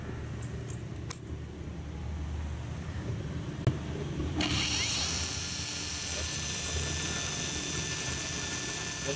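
A Dekton M21 cordless angle grinder fitted with a belt sander adapter switches on partway through and runs with a loud, steady motor whine over a workshop hum.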